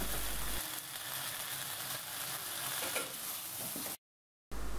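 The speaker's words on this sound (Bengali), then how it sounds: "এই কড়াইতেই আবার আলুগুলো দিয়ে মশলার সাথে মিশিয়ে নিচ্ছি" Potatoes stirred with spices in a wok that was just used for cooking chicken feet and wings, giving a steady close scraping and sizzling that runs continuously, then cuts to a brief silence before resuming.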